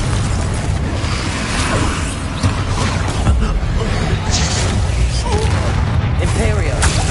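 A Confringo blasting spell in Hogwarts Legacy sets off a dense run of booming magical explosions and crackling bursts, loud and continuous, with a voice talking over the barrage.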